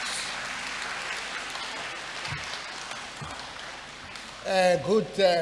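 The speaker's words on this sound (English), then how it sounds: "Can we welcome him with a round of applause?" Audience applause for a keynote speaker at a university lecture event, a steady dense wash of clapping through most of the clip, fading before a voice begins speaking at the end.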